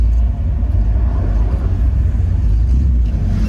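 A Chevrolet Bel-Air barn-find car runs with a deep, steady engine rumble, loud and close, the low drone continuous throughout.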